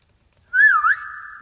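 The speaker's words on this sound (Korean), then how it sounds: "가이드를 보면은 휘파람 소리들이 여기 있네" A single clean whistled melody on a guide vocal track, rising and dipping in pitch over about a second before settling into a steady sustained tone, close and isolated with no other sound.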